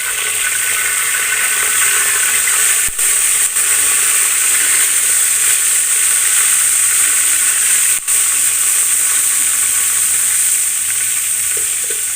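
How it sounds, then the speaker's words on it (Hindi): Cauliflower kofta fry in hot ghee with a loud, steady, close sizzle and hiss that runs unbroken for the whole stretch, marked by a few faint clicks. "ये देखिए घी हमारा गर्म हो चुका है। अब हम लोग इसके अंदर कोफ्ते ऐड करेंगे जी।"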